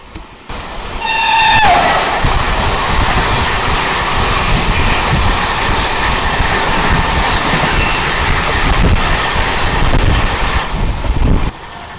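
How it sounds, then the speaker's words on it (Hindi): An oncoming Vikramshila Express train rushes past on the adjacent track, a loud sustained roar and rumble of wagons lasting nearly the whole stretch after a brief rising horn-like tone at the start, then cutting off abruptly near the end. "ये आ रही है सामने से विक्रमशिला एक्सप्रेस"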